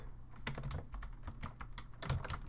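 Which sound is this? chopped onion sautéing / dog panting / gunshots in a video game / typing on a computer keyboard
typing on a computer keyboard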